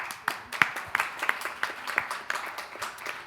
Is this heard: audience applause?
yes